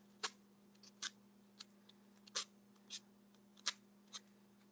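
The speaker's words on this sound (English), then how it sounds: "And I can probably just rip the excess napkin off" Excess paper napkin torn off by hand in short, crisp rips and crinkles, about a dozen separate bursts spaced irregularly, close and fairly quiet over a steady low electrical hum.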